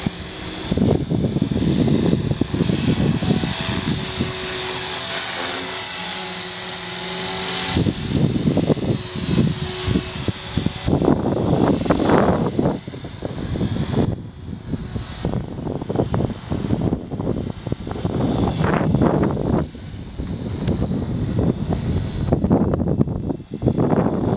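An EXI450 radio-controlled helicopter flies nearby with a continuous high rotor and motor whine that swells and fades as it moves, loud and steady throughout with no talking.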